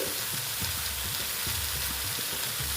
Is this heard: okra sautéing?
yes